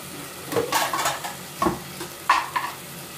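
Spiced food with potatoes is stirred and fried in a wok, with sharp scraping strokes of a utensil against the pan and sizzling in between, close and irregular, with no talk.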